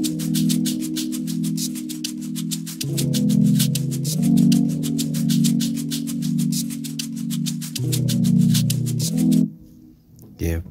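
A second, more realistic shaker pattern layered into a chilled, jazz-inspired Afrobeat groove, with steady rapid shaker ticks over warm sustained chords and bass, continuous and upfront until the mix cuts out near the end.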